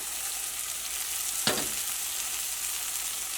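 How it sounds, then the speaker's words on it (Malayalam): Chopped cabbage hits a pan of cooking tomatoes with a quick splash, then a steady soft sizzle continues close by, with no voices. "ഇനി ഇതിലേക്ക് നമുക്ക് പച്ചക്കറികൾ ചേർക്കാം. ക്യാബേജ് ചേർക്കാം."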